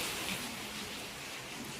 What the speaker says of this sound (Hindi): बारिश बहुत ज़ोरों की स्टार्ट हो गई है